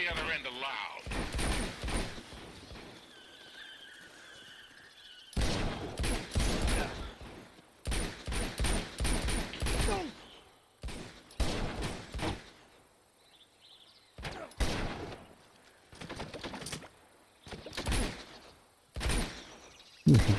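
Repeated bursts of gunfire in the video game Uncharted 2, loud clusters of shots recurring across the scene, separated by quieter gaps with game sounds and a voice talking over them.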